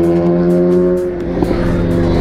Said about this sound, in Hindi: तुम आवाज़ सुनते रहना कितनी बाइक जाएंगी